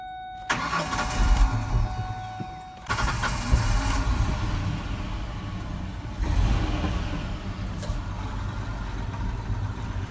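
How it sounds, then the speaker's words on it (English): A car engine cranks and catches right after its coil pack wires were reinstalled during a misfire repair, then settles into a steady idle; the engine noise is close and loud throughout, with no talking. "We'll see if the car starts up, runs fine."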